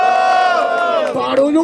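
A rap battle crowd at the 67th Batalha da Aldeia in Barueri, São Paulo, roars and cheers loudly, with shouting voices merging into a brief, dense burst of noise.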